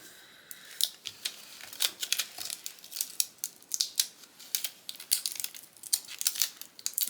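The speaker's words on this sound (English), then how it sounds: "Let me get my scissors out." Scissors snip repeatedly in quick, irregular cuts through thin material, cutting out a snowflake shape, close and crisp, with light crinkling between the cuts.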